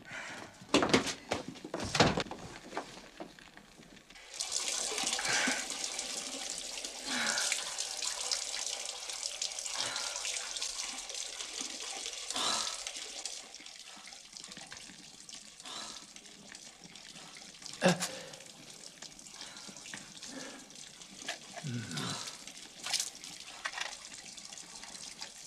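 Tap water runs steadily into a container in a household kitchen, a broad hiss lasting most of the time with a few clunks and bumps, under quiet background sounds and no speech.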